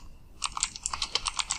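Close, quick typing on a computer keyboard, a brisk run of individual key clicks starting after a short quiet moment, with no talking.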